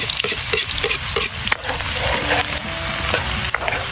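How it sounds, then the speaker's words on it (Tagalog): A large amount of garlic sautés in hot oil for spicy garlic chicken necks, sizzling steadily while a utensil stirs and scrapes through it in quick, repeated strokes. "At magigisa na tayo. Lagyan na natin ang ating maraming bawang."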